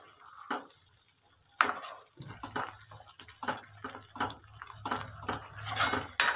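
Brinjal curry is stirred in a pan with a spoon, giving scattered scrapes and metallic clinks at an irregular pace over a low sizzle and faint background noise.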